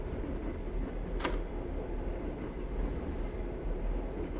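A train rolls steadily along in the video game Russian Train Trip, a continuous low rumble of the carriages with one brief sharp click partway through, heard alone without voices.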